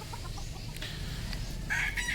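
Chickens on a guava farm, a few nearby clucks at first followed by a louder, sharper call toward the end, set against a steady outdoor background hum.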